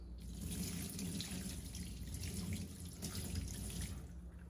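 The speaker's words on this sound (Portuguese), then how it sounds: "Aí, ó, como enxaguar ela" Steady rush of tap water running over a Le Creuset enameled pot being rinsed in a sink, continuous and close with light splashing throughout.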